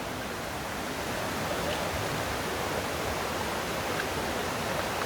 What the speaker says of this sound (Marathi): जरा भूषण जरा आपला धबधबा दाखव मागे